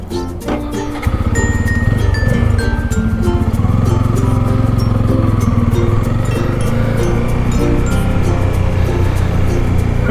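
A motorcycle idles in gear on its kickstand during a Philippines touring trip, its steady, loud low engine drone holding unbroken for about nine seconds after a brief quieter start.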